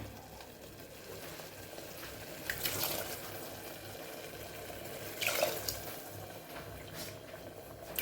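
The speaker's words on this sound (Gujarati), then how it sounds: "એ ત્રણ વાટકી જેટલું આપણે અહીંયા પાણી ઉમેરશું" Water is poured into a pot of sour-sweet samo millet khichdi with curd. It comes as a faint, low watery wash with a few louder splashing pours and no talk.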